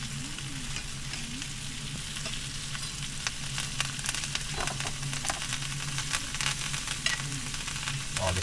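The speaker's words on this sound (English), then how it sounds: "Let me toss in the garlic here. And the thyme. And I'm going to start basting it with the butter." Meat sizzling loudly in a pan with butter, garlic and thyme, a dense continuous crackle with scattered sharp pops as it is basted, heard up close; a voice murmurs faintly underneath.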